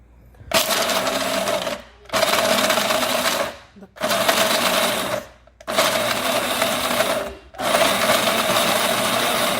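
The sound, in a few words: blender blending almonds, cashew nuts and walnuts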